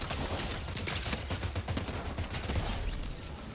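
Rapid gunfire in a Fortnite Zero Build match, overlapping shots on both sides including shotgun and SMG fire, dense and continuous bursts throughout.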